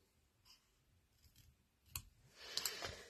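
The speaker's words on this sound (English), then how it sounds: "If you hold your scissors at a 45 degree angle and move the paper rather than the actual scissors," Scissors cutting through paper card while making a card, quiet, scattered snips and clicks that build into a denser cutting rustle near the end, close to the microphone with no talk.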